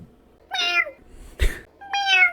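A cat named Buttercup meows twice, clear and close, with a brief sharp knock between the two calls.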